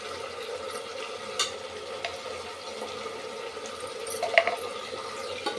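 Spices, salt, turmeric, chili and tomato for a lobia dal curry are stirred and fried in a pan, giving a soft continuous sizzle broken by occasional scraping clinks of the spoon.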